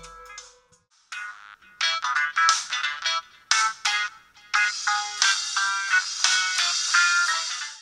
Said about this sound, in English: Don't know why this music is for, but it sounds pretty damn cool.